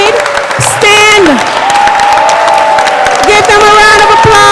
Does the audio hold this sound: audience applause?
yes